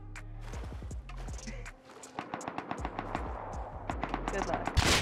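Gunfire in the survival video game Rust, with sharp repeated shots and short bursts that grow denser toward the end, mixed with background game sounds and faint voices.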